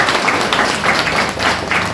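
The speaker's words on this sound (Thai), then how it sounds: "ปรบมือให้กับผู้แนะนำของเราด้วยครับ" An audience in a room at a Successmore business gathering applauds, a dense, continuous wash of many hands clapping together, loud and steady throughout.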